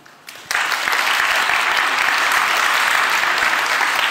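Loud, sustained audience applause fills a live stage event at a conference, starting with a brief lead-in then swelling into steady dense clapping from a large crowd for several seconds.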